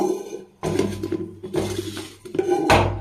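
A metal pressure cooker picked up and handled, giving bursts of clattering, knocking and scraping against a hard surface with a low rumble underneath, close and fairly loud, no talking.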